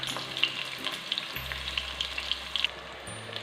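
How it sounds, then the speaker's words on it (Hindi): Roughly chopped onions frying with cumin in oil in a pan for kidney bean curry, a steady close crackling sizzle with scattered pops and no talking. "प्याज को भी फ्राई कर लेते हैं।"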